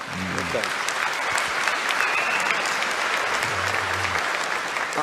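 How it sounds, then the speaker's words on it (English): A crowd claps loudly and continuously, a dense, even wash of applause that never lets up. "we're entering the part of the program where there's going to be a lot more applause"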